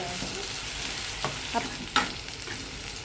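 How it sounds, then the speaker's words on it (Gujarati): Chopped onion sautéing in a pan for chole, a soft continuous sizzle with a few light spatula scrapes and taps while it is stirred. "ડુંગળી સોતરાઈ જાય ને થોડી મીઠું નાખી દેવાનું એટલે જલ્દી સોતરાઈ જાય."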